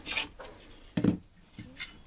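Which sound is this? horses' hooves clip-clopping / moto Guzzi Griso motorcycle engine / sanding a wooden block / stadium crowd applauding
sanding a wooden block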